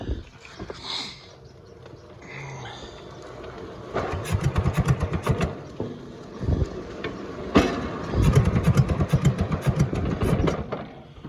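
An International B414 tractor engine, locked up and being freed, cranks over with a starter in two bursts of rapid, uneven churning, loud and close, separated by quieter pauses.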